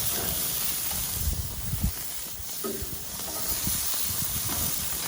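Food on hot grill grates gives a soft continuous hiss and sizzle with a few faint clunks and scrapes, fairly quiet and steady, with no voices.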